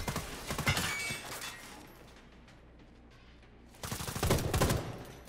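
Bursts of gunfire in the shooter Sniper Ghost Warrior 3, a rapid volley of shots at the start, a quieter lull, then another dense burst of close, loud firing near the end.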